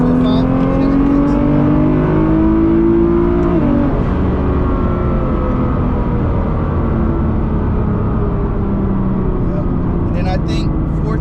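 A Chevrolet Corvette C7 Z06 accelerates hard, its engine a loud, close drone climbing in pitch through the gears under boost, with voices talking over it.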